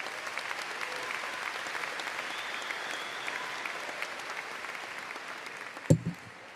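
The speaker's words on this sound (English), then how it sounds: "deserves a round of applause." Applause at a high school commencement ceremony, a broad, steady wash of clapping from a large crowd, moderately distant, that holds evenly for several seconds before a brief thump near the end.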